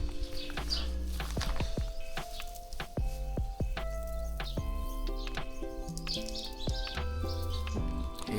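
Sparrows chirp in a village yard in the morning, with many short, bright calls overlapping in irregular bursts close by, alongside faint household knocks.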